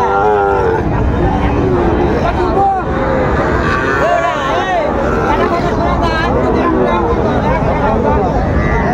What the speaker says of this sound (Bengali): শাহিওয়াল বাচ্চা, ষাঁড় বাচ্চা